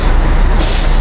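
A loud, close blast of air at an airport bus, a broad rushing hiss like an air brake release that cuts off briefly and then surges again.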